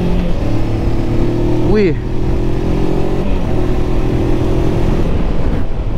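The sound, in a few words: Voge 525 DSX motorcycle riding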